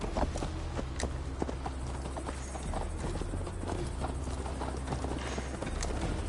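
Horse hooves pound steadily in a rhythmic gallop during a long ride in Assassin's Creed Valhalla, close and continuous with a low rumbling bed beneath the clip-clop beats.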